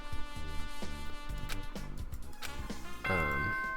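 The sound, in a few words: doorbell-like chime in video game Danganronpa 2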